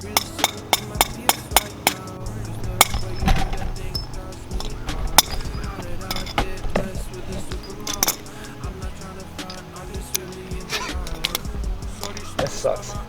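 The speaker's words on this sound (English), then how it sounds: "Okay, you gotta hammer it off." Hammering off a rusty part on a 207K-mile Mazdaspeed6 engine, a run of sharp metallic strikes, some quick and some spaced apart, amid clinks of tools and some voices.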